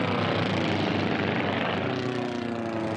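Formula One racing planes at the 2018 STIHL National Championship Air Races roar past with a loud, close propeller-engine drone that shifts in pitch as they pass.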